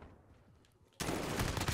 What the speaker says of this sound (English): I was shooting at the stupid wall for a second